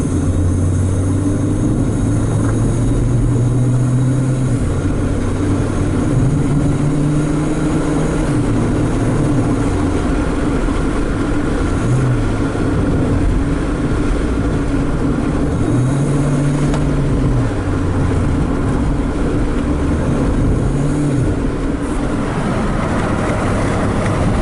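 Mitsubishi Lancer engine with a stuck brake switch and lost power, droning loudly and steadily up close, its pitch rising and falling as the gas pedal is pressed and released again and again.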